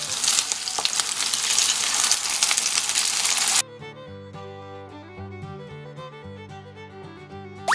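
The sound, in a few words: pork slices and king oyster mushrooms frying in a pan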